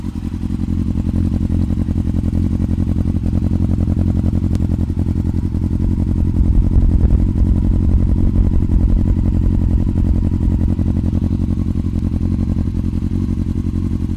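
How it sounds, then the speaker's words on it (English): A 2001 Yamaha R6 motorcycle engine running through an aftermarket Aero exhaust, holding a steady, deep idle with a constant low rumble and faint mechanical clatter, close and loud with no talking. "I'll finish the video with a little pure engine sound from that beautiful aero exhaust."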